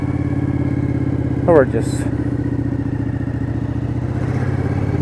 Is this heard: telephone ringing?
no